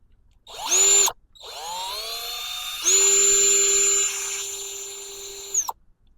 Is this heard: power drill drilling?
yes